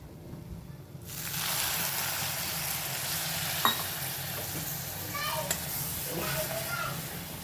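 Niger seeds frying in a pan give a loud, continuous close-up sizzle that starts abruptly and holds steady, with faint voices and children's chatter in the background.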